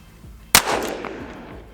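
A pair of Smith & Wesson 686 revolvers fired together in a single loud, sharp blast, followed by a short ringing decay with no talk.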